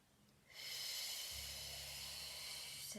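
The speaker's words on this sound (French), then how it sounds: "on va prendre 2 grandes respirations profondes pour vous aider à approfondir" A single long, deep breath is drawn in through the nose, starting after a short quiet moment and holding as a steady, airy hiss to the end, close and soft.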